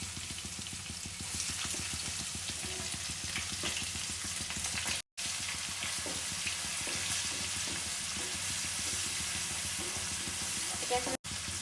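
Onions fry in hot oil with cumin, cinnamon and cardamom in a pan, making a dense, continuous sizzle over a fast rhythmic patter of stirring, broken by two brief dropouts.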